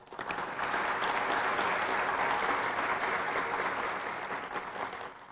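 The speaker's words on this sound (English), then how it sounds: "please give a round of applause" An audience at an employee retirement and recognition ceremony for a school district claps steadily for several seconds, a dense even patter of many hands that swells quickly and then slowly thins toward the end.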